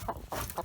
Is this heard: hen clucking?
yes